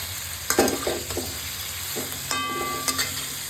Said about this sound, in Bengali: সমস্ত কিছু একটু ভালো করে নাড়বো